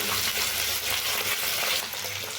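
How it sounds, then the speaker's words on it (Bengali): Four large tangra fish fry in hot oil, giving a steady, loud, crackling sizzle that carries on without a break and with no voices. "চারটে মাছ দিয়ে দিলাম মাছগুলো অনেক বড় ওই জন্য বেশি মাছ একবারে ভাজতে পারবো না"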